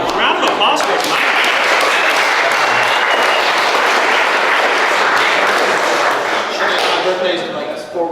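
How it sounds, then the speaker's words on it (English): Sustained applause and clapping from a group fills the room for most of the span, steady and fairly loud, tapering off near the end as voices return. "Round of applause for Mike"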